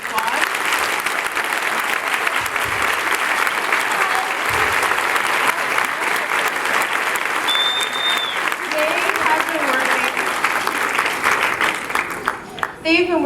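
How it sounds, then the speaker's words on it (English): An audience applauds third-grade students after their holiday performance: sustained, full clapping from a crowd, steady and loud for most of the stretch before thinning out near the end, with faint voices mixed in. "Can we give these students a round of applause?"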